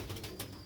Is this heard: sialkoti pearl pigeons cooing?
yes